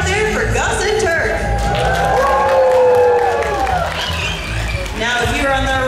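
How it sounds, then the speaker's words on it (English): A stadium crowd at a dolphin show cheers, whistles and claps loudly and continuously while an announcer's amplified voice carries over the noise. "you will be cheering for Gus and Turk. So let's hear it out there for Gus and Turk"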